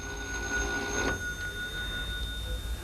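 An old telephone rings steadily in a cluttered room, with a sustained electronic bell tone heard alone, moderately loud, and a brief clatter near the middle.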